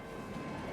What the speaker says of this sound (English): And now the train's coming in.